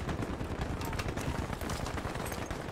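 Dense, steady gunfire from the game Battlefield V rattles in rapid bursts for the whole short moment, fairly close and unbroken.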